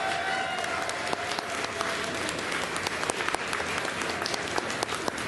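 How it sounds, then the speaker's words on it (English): Convention audience at Ultracon applauding a guest, a dense, steady wash of many hands clapping at moderate distance for the whole stretch, with no talk over it. "Round of applause for Kiran,"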